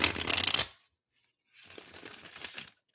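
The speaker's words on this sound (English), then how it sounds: "So let's shuffle these a bit, shuffle the question into the cards." Tarot cards are shuffled in two short bursts, a brisk riffle followed by a quieter, longer stretch of soft card rustling, separated by a brief silence, close and fairly faint.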